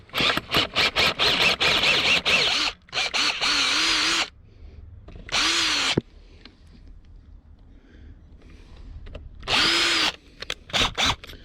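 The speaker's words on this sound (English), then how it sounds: "Alright, let's drill it." A power drill drills out a threaded hole in short, loud bursts of whirring, with several quick stuttering pulses, then longer runs separated by pauses of near silence.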